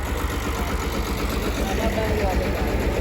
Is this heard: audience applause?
no